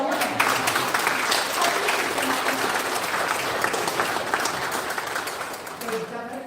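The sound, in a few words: applause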